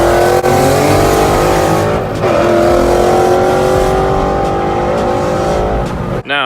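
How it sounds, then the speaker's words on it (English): A boosted Nissan 370Z Nismo roll racing a Mustang, with loud, close engines roaring steadily at high revs, the pitch climbing through gears and a brief tire squeal near the end. "I have a video with his car with them doing a roll race, and he can destroy this Mustang easily."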